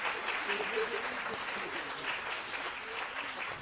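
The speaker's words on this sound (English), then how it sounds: "Let's give them another round of applause" Steady, dense applause from an audience after a fall choir concert, a continuous wash of clapping lasting the whole stretch, with a voice faintly present beneath it.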